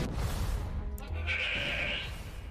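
A baby sheepsquatch in the Fallout 76 video game lets out a bleating cry, a single drawn-out call heard close over a steady game background.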